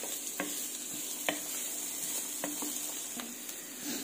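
Sliced onions fry in a pan, turning soft, with a steady background sizzle and several sharp scraping clicks from a spatula stirring them at irregular intervals, close and fairly quiet.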